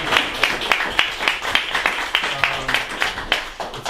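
An indoor audience claps for Peter Petro at a discussion event, a moderate, fairly sparse round of applause with distinct individual claps.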